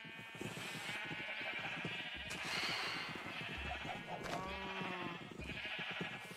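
Sheep in the video game Minecraft bleating several times over a few seconds, repeated short wavering baa calls, fairly close, with a faint rustly background and no talk.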